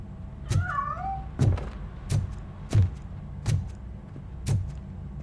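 A cat in the video game Robocop: Rogue City gives a wavering meow early on while escaping, followed by a series of sharp, evenly spaced thuds like quick footfalls.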